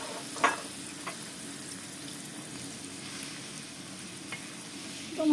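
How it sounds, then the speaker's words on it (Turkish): Chopped tomatoes hitting a hot pan with bulgur pilaf vegetables, a steady close sizzle and frying hiss with a few stirring clinks, continuous throughout with no talking. "Üzerine doğramış olduğumuz domatesleri döküyorum."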